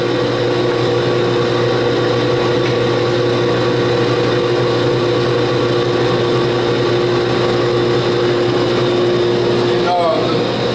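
An electric meat grinder grinds beef for hamburger with a loud, steady motor hum and a constant mechanical drone, close and unbroken throughout.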